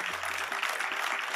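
Audience applause at a musical show, a brief wash of crowd clapping lasting just over a second, with a low tone briefly sounding underneath at the start.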